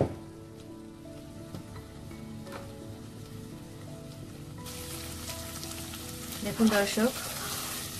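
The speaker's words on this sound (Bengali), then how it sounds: "আর চুলার আঁচটা হাই হিটে দিয়ে একটুখানি ভেজে নিব" Prawn curry fries in a pan over high heat with a soft, continuous sizzle under brief speech, the crackle growing brighter and louder in the second half with a few stronger spits near the end.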